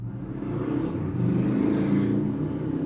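A motorcycle passing outside, heard as a steady engine rumble that swells slightly in the middle and eases off, fairly loud, with no talking.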